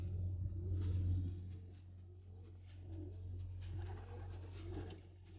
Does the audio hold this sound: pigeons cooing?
yes